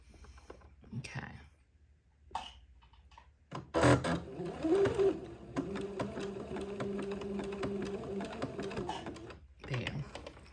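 Sewing machine zigzag stitching lace onto entredeux for a baby layette, a quick rhythmic mechanical chatter running for several seconds after a few soft thumps, with faint quiet talk nearby.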